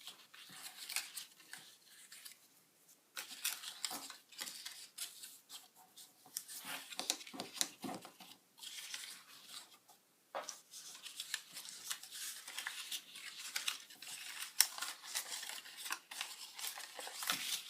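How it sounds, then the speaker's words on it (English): Paper card stock for a tea light or votive gift box is folded along score lines, giving repeated close crinkles, creases and soft rustling scrapes over the whole stretch, light and dry with short pauses. "And now just fold along the score lines."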